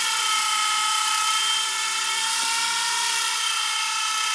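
Sky Rover Swift toy RC helicopter in flight, a continuous high-pitched electric whine from its small rotor motor, steady and close with slight pitch shifts.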